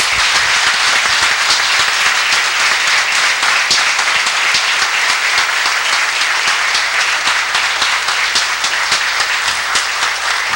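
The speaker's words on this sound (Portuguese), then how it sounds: "Salve Deus, uma salva de palmas." A standing audience at a lecture in Ipatinga gives a long, loud, steady round of applause to welcome a speaker, a dense, even roar of clapping from start to finish with no talk on top.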